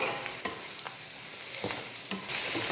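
Fried eggs being stirred and sautéed in onion masala with ginger and garlic in a hot pan, giving a steady close sizzle broken by scraping stirs of a spoon, with no talking.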